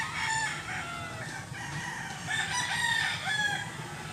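Several fighting-cock roosters crow one after another in a steady, dense soundscape in rural Cebu, Philippines, with distant and nearer calls overlapping and no pauses between them.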